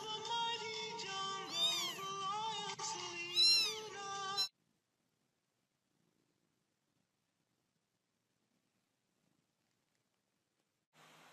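A cat meows close by, several drawn-out rising and falling calls in quick succession, followed by near silence.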